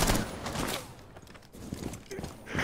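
Rapid gunfire in the Rainbow Six tactical shooter game, dense bursts of shots under excited voices talking over the action.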